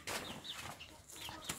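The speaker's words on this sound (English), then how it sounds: "And these are chicken." Chickens cluck and murmur at close range in a farmyard, a few short irregular calls over low background noise.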